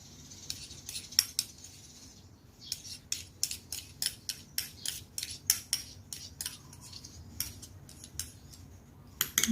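A metal teaspoon scrapes and clinks against a container while scooping melted Vaseline, a series of sharp, bright taps and scrapes in irregular bursts, close and fairly quiet with no talking.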